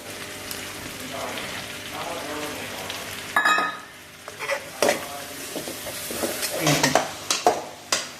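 Chopped garlic hits melted butter and fries with bright crackling sizzle and stirring clatter, close and uneven, with spitting bursts toward the end and no talk.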